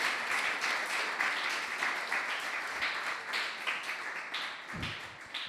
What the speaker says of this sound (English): Let's give a huge round of applause for Maharaj